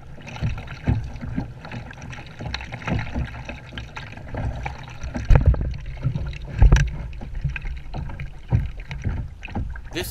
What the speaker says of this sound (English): a perfect time for a kayak trip down Bass River, undisturbed